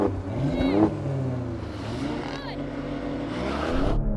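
Car engines rev and accelerate hard during a drag race between a Porsche and an Alfa, with rising and falling gear whines mixed with voices talking over the engine noise.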